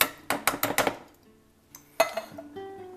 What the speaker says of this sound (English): What we're going to do is dump in the butter beans